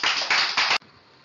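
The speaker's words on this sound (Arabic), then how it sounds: "صفقوا" Children in a kindergarten class clap together in a short burst of a few quick pulses of applause that stops abruptly, followed by near quiet.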